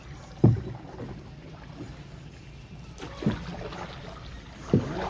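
Floodwater in Samar sloshes and laps steadily at close range, broken by three heavier splashes spaced a few seconds apart, with no talking.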